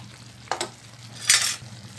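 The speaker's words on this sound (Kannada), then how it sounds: "ಈಗ ಇದೆಲ್ಲ ಚೆನ್ನಾಗಿ ಮಿಕ್ಸ್ ಮಾಡ್ಕೋಬೇಕು" A spoon scrapes and stirs mushroom masala with garam masala, coriander and chili powder in a pan, two short stirring bursts with a faint sizzle, close and clear with no talking.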